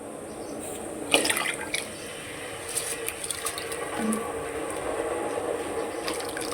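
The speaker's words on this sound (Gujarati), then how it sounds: "પાણી ગરમ થઈ ગયું છે તો અંદર એડ કરી દઈશું ભાત" Soaked rice tipped into a pot of hot water for boiling, splashes and drips with a few sharp clinks, then a light steady bubbling, close and moderately loud, no talk.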